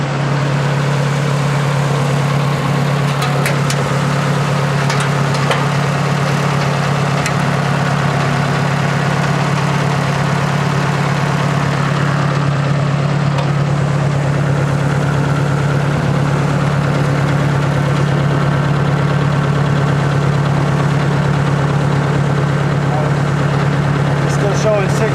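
A Ford Model 600 tractor engine idles steadily, a constant low hum that continues under a man's speech throughout.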